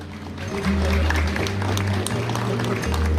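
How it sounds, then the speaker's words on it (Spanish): Applause from a crowd at a school graduation ceremony rises after a brief moment and holds steady and loud, with a low hum and some voice-like tones underneath. "Fuerte el aplauso."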